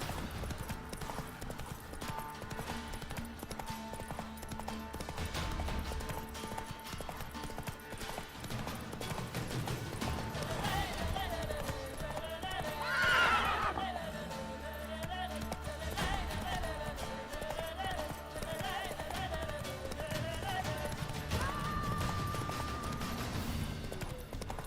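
Hooves of the horse Roach clip-clop steadily over a bed of game music and ambience in The Witcher 3, with a short whinny rising briefly midway.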